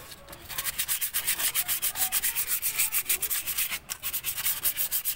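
Rapid back-and-forth sanding scrapes on the rear brake parts of a 1999 Lancer, a steady close rhythm of rubbing strokes with no talk.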